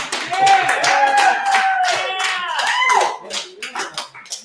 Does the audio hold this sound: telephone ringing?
no